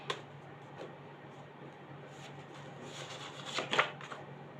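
Tarot cards shuffled by hand for a guidance reading, a soft continuous riffling with a few sharper flicks and slaps near the end, close and quiet with no talking.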